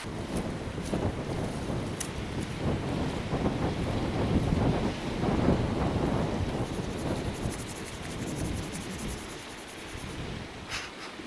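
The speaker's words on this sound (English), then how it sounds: "Oh, it's freezing, that wind." Cold wind gusts steadily across an outdoor microphone in Killin, Scotland, a continuous low rumbling buffet that swells in the middle and eases slightly toward the end, with no talking.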